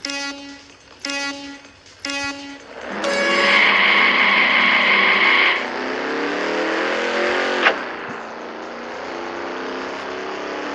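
A drag racing car on a street strip revs in short bursts, then accelerates hard with a loud rising engine note and a sharp gear change partway through before the sound fades as it pulls away.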